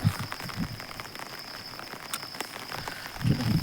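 Rain falls under an overcast sky in a soft, continuous patter with scattered close drops, and a low rumble swells briefly at the start and end.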